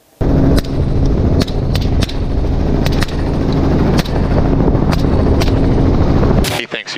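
Rapid gunfire from a helicopter during a hog hunt: a loud, close string of sharp rifle shots at uneven intervals, riding over a steady, heavy rotor and engine roar.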